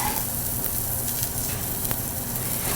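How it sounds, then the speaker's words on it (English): Onion and minced garlic sizzle in a pan with a steady, close frying hiss. A couple of faint stirring knocks sound beneath it, and no one talks. "So now that I've added my onion in, I'm gonna add in my minced garlic."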